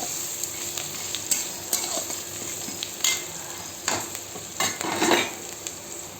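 Dried red chillies sizzle in hot tempering oil, a steady close crackle broken by several louder bursts and scraping stirs, with no voices.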